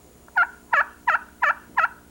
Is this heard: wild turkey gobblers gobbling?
yes